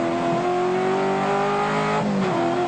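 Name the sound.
V8 touring car engine racing at Amaroo Park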